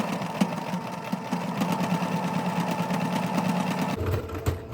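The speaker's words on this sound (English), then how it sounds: "I do a zigzag stitch across it" A sewing machine runs a zigzag stitch along a ribbon skirt seam, a fast steady mechanical whir with a regular rapid needle pulse that stops abruptly near the end, leaving a faint click.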